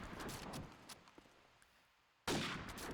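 Gunfire in Call of Duty 4 during a competitive LAN match, with a few distant shots through walls followed by a sudden loud, dense burst of firing near the end.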